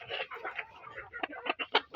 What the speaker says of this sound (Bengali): এগুলো টাইগার মুরগি ডিম দিচ্ছে প্রতিনিয়ত